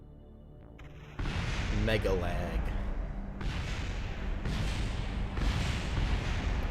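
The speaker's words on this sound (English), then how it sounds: "I want this to explode down here." Spacecraft blowing up in the video game Kerbal Space Program, a loud sustained rumbling roar that begins abruptly and swells in bursts, with someone briefly talking over it.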